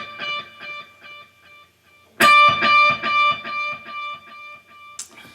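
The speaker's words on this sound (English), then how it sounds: "you want a pretty prominent 8th note delay" An electric guitar plays picked notes with overdrive, each note echoed by a rhythmic delay that repeats and fades.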